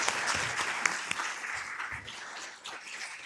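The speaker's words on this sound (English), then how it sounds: "If we can please give him another round of applause." Applause from the audience at a city council meeting, steady clapping from a crowd throughout, moderately distant in a hall.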